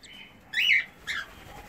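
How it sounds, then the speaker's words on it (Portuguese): Two short, high peeps come from a cockatiel chick still inside its egg, faint and close against a quiet background. "Piando dentro do ovo, ó."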